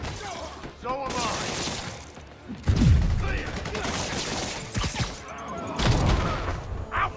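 Grenade blasts and gunfire in Marvel's Spider-Man game combat: a heavy booming thud midway among scattered shots and crashing impacts, loud and dense throughout, with voices talking over the fight.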